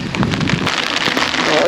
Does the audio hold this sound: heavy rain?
yes